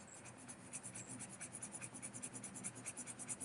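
A pencil shades on paper under heavy pressure, giving a quiet, close, rhythmic scratching as the lead strokes back and forth in quick, even passes, with no talk.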